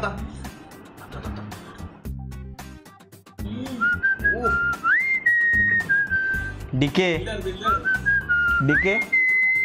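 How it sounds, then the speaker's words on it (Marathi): A person whistles in sustained, gliding tones that rise and hold, close and fairly loud, while people talk and laugh during a room-cleaning session. "तुझ्यासारखे 5 आमचे तर सगळे शिट्टी मार देतात"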